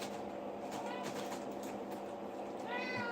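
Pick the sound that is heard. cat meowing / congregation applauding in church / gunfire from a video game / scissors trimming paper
cat meowing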